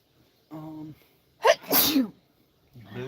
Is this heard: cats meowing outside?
no